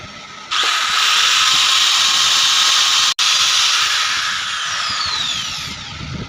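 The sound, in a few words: electric drill boring a hole for a motor mount nut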